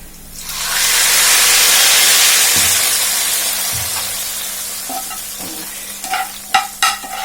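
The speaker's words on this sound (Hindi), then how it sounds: "हमारी भगार हो गई रेडी, अब बस मैं स्टेज में इसमें डाल रही हूँ भगार" Tempering of fried onions poured into beef haleem sets off a loud hissing sizzle that swells, then slowly fades. Stirring clinks and scrapes follow near the end, with no talking.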